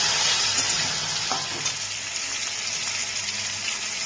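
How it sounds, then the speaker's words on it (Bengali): Tomato cooks with turmeric and a little sugar in a pan for pea dal, giving a continuous close sizzle and crackle with occasional stirring scrapes and no talking. "এটাকে আমি একটু ভেজে নিচ্ছি।"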